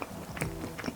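Someone bites into and chews a slice of warm buttered zucchini bread, a snack, with soft, close crunching and mouth sounds over about a second, no talking.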